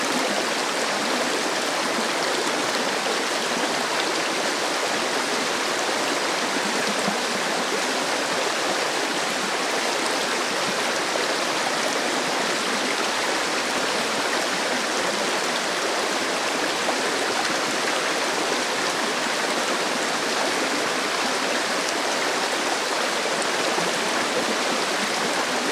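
Little Missouri River flowing as a creek crossing along a forest trail, a steady close rushing stream with constant broadband water noise and no voices.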